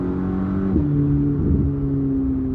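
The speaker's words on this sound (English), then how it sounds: "Oh, and those turbos just whistling." A sports car with twin turbos accelerating hard, a steady engine drone rising in pitch between shifts with a thin turbo whistle riding on top, close and continuous throughout.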